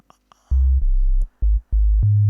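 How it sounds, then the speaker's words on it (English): Deep bass line from an FL Studio Afro Bongo beat, heavy low sustained notes entering after a few soft clicks, pulsing in short held blasts separated by brief gaps, loud and booming. "you can just listen to the bass line"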